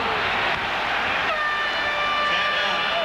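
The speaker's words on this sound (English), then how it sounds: "We've got a whistle, and that'll be a foul on the Pistons." A referee's whistle sounds at an NBA basketball game between the Bulls and Pistons at Chicago Stadium, a sustained tonal blast over the loud, constant roar of the arena crowd.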